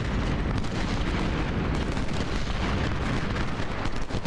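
Continuous massed gunfire and booming blasts of a Civil War battle at Fredericksburg in a strategy video game, the Iron Brigade under fire, a dense, loud rumbling barrage with no pauses and no voices.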